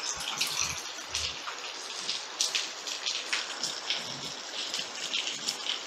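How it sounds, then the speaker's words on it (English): Steady rain patters and splashes on surfaces close by, a continuous crackling hiss with scattered louder drops. "I love it when it rains in the afternoon like this"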